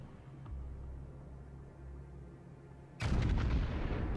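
Main battery guns of the Yamato battleship in World of Warships fire in one loud, booming salvo midway through, after a stretch of low engine rumble, with the blast's roar lingering to the end.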